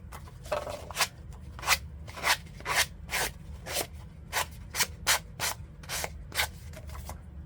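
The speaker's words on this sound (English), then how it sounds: "Use my sanding block to take that edge off." Repeated rhythmic rasping strokes of a sanding block rubbing along a wooden edge, close and steady, about a dozen short scrubbing passes.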